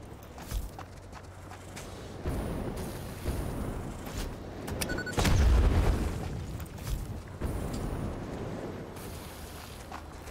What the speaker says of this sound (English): Bombs are fun! They blow up enemies.